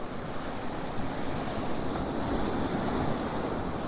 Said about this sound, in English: Very noisy sea